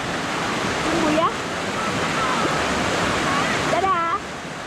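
A fast river with a strong current beside a riverside campervan park at Sari Ater, Subang, rushes as a loud, steady wash throughout, with a voice briefly heard over it.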